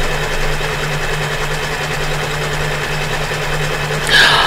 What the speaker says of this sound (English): I'm quilting with a rayon embroidery thread